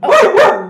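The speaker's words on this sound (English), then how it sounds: "You may hear some barking." A Wheaten terrier barks twice in quick succession, loud and close, two sharp barks a fraction of a second apart.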